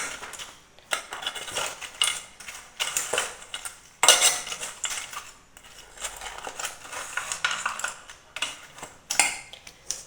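Tomato and onion are stirred together in a metal pan, giving rhythmic scraping and clinking of a utensil against the pan in repeated bursts, moderately quiet and with no talking.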